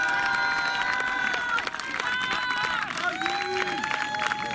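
Crowd cheering and clapping at a Roman gladiator show, a dense, loud, steady roar of many voices and applause with whistles and shouts rising over it throughout.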